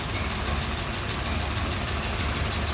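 A 1935 Ford Deluxe 5-window coupe's flathead engine idles steadily with its hood open, a smooth, even low rumble and broadband hiss held at constant moderate loudness throughout, with no talking.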